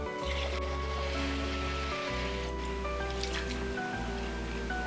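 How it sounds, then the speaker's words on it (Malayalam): Water is poured steadily into a vessel of rice, gurgling and splashing with a low, uneven bubbling tone. "ഇനി ഇതിലേക്ക് നമുക്ക് വെള്ളം ഒഴിച്ചു കൊടുക്കാം."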